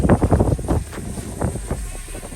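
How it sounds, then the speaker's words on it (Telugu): Strong wind buffets the microphone while a drone is flown near high-rise buildings in Visakhapatnam, loud gusty rumbling that swells at the start and then settles into a steady roar, with no talking. "నేను డ్రోన్ ఎగరేయగానే చాలా గాలి వేసింది"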